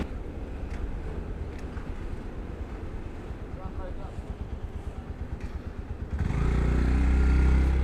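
A motorcycle ridden carefully along a highway from Dhaka toward Noakhali gives a steady engine drone buffeted by heavy wind noise, swelling into a louder rush of wind near the end, with a rider talking over it.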